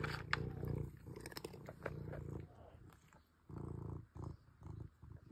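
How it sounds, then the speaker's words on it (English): A pet cat named Bootsy purrs close by in a low rumbling rhythm that rises and fades in bursts, with some faint shuffling around it and no clear speech. "It's a purring Bootsy."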